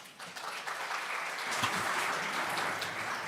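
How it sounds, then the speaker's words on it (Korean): Moderate applause from a seminar audience, a steady even patter of many hands sustained throughout, slightly distant and fairly soft. "조경현 연구원장님께 큰 박수 부탁드립니다."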